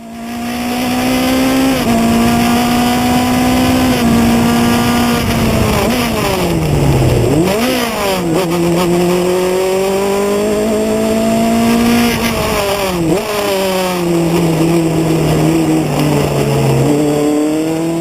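Race car engine at full speed during a qualifying race at the Coronado Speed Festival, loud and close, holding a steady high drone, then dropping and stumbling at a missed gear shift before climbing again, with a brief tire squeal.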